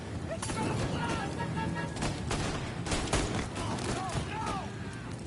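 Gunfire and heavy blasts crash through a firefight in the video game Mafia: Definitive Edition, with dense, loud bursts repeating over several seconds while voices shout underneath.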